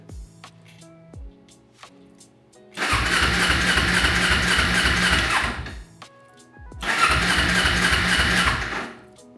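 A motorcycle engine with a suspected carburetor fault cranks twice in long grinding bursts, churning rhythmically without catching, separated by a quiet pause with faint clicks.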